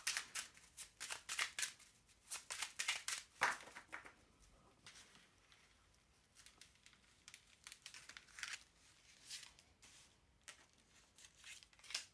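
Tarot cards being shuffled and dealt out for a thirteen-card spread, giving a string of soft, close riffling and slapping bursts that thin into lighter card flicks and taps, with no talking.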